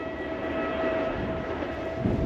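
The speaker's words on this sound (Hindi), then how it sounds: "ये थी कराची और पेशावर के माबैन चलने वाली 47 अप रहमान बाबा एक्सप्रेस, जो अभी थ्रू पास करेगी रन पठानी रेलवे स्टेशन को" Passenger express train between Karachi and Peshawar running through Ran Pathani railway station, heard from nearby hills as a steady, fairly loud broadband rumble with a faint tonal whine, continuous and without voices.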